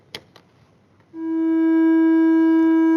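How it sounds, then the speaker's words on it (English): A signal generator produces a steady triangular-wave tone that switches on partway through and holds at an even, moderately loud level, preceded by a couple of faint clicks. "but I can also have a triangular wave,"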